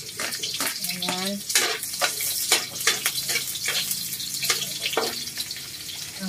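Chopped onions sizzle in a pan while a Filipino dinuguan dish is cooked, with bursts of crackling and scraping stir strokes at an irregular rhythm and a brief voice in the background.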